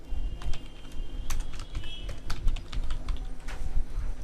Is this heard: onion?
no